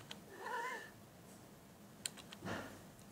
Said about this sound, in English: is my nosy cat